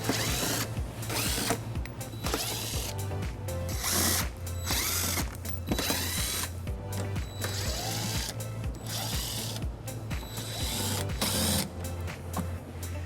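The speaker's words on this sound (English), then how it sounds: "We'll remove those using an 8mm socket." A ratchet wrench with an 8mm socket removes bumper screws from a 2022 BMW X3 during a trailer hitch installation, giving steady, close mechanical clicking in continuous bursts with no talking.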